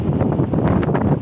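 Strong wind on a hilltop buffets the microphone with a loud, continuous rushing roar and gusty rumble, no voices.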